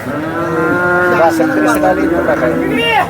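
A cow at a livestock market in Sangola lets out a long, loud moo right up close, a deep drawn-out low that rises and wavers for about three seconds.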